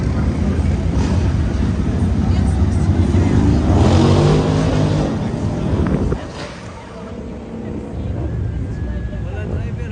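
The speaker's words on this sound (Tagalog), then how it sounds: "Wimo, walang driver to. Ayan o. Tumatakbo lang to." A Waymo driverless car rolls along a San Francisco street with a steady, loud road and motor rumble that dips partway through, while people talk excitedly nearby.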